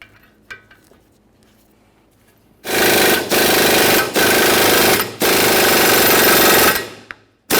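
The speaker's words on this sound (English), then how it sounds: "we'll start driving the ball joint up inside this area" A ball joint press forcing a front lower ball joint into the steering knuckle of a 1994-1997 Honda Accord, a loud continuous grinding drone broken by brief pauses, preceded by faint clicks.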